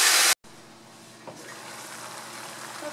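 A quarter cup of water hits a hot pan while Salisbury steak and mushroom gravy cook, giving a steady, moderately loud hiss of steam and sizzle that carries on evenly after a brief cut-off at the start, with no voices.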